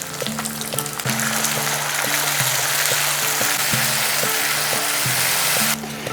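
Ginger-garlic paste and tomato paste fry for khichuri in a pot, a loud steady sizzle broken by repeated metallic clinks and scrapes of a stirring spoon against the pan.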